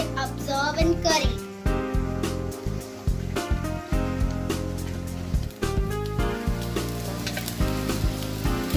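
Eggs frying in a pan of curry for a dhaba-style egg curry, a steady close sizzle running throughout beneath background music with sharp pops and stirring clatter.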